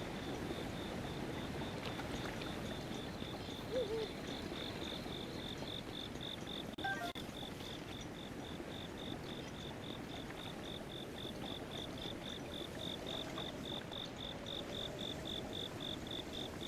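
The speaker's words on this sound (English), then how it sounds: "Man, I can hear crickets like a motherfucker." Steady, repeating cricket chirps pulse evenly through a Breath of the Wild game scene, moderately loud over a soft ambient outdoor bed, with a few faint incidental game sounds.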